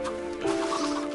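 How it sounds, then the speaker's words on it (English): Baby chickens on an island in a video game cluck softly in a short, close burst of chirpy fowl calls, lasting about a second. "Look how many baby chickens there are."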